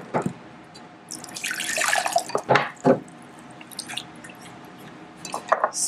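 Water poured into a bottle holding a little baking soda, splashing and gurgling in uneven bursts up close, then trailing off into drips.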